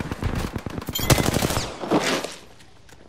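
Rapid automatic gunfire bursts from a shooter video game, loud and close, with dense repeated shots through the first half before tapering into quieter shots and ambient noise.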